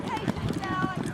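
Polo horses gallop across the field during a match, quick rhythmic hoofbeats thudding under a commentator's continuous speech.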